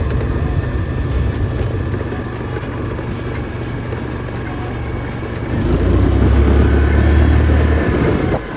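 A second-hand Hero Pleasure scooter hums steadily as it is ridden, its engine note close and continuous, growing louder and heavier midway as the throttle opens.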